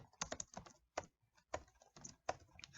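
Keys clatter on a computer keyboard in several quick bursts separated by short pauses, close and fairly quiet, with no speech over it.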